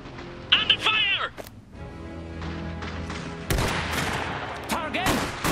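Gunfire and explosive bursts in the Iron Harvest strategy game's Rusviet campaign, irregular loud cracks and volleys mixed with game sound effects and voices shouting briefly over the battle.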